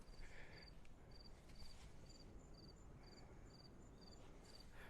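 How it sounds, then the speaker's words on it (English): Crickets chirp near Pelican Bay Beach in North Naples, Florida, a steady regular pulse of short trills repeating about twice a second, faint and distant over a constant broadband wash of surf and wind. "Crickets."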